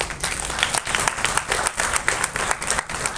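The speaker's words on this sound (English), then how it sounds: "A round of applause." An audience claps in a steady, dense round of applause, close and fairly loud, with no voices over it.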